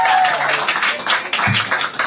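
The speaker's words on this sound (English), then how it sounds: "let's give a warm applause to our" An audience at a live electric vehicle show claps together in a steady burst of applause, a dense patter of many hands close by that fills the whole moment.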